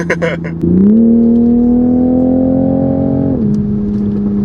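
A sports car engine climbs sharply in pitch, holds a loud, sustained roar, then eases back down, close and dominant throughout.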